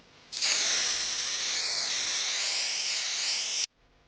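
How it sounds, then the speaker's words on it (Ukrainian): Vitano Tire Black Shine aerosol sprays onto a dry tire in one loud, close, continuous hiss lasting about three seconds. The hiss starts and stops abruptly. "Розпиліть засіб на суху шину."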